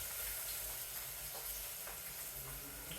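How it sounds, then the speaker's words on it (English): Food sizzles in cooking pans, giving a constant broadband frying hiss that fills the background at a moderate level with no voice over it. "I'm not sure how much background noise there is coming"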